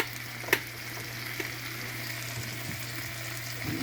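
Pepper grilled cheese frying in a pan, a steady low sizzle running throughout with a sharp clink near the start and a few faint stirring or scraping touches.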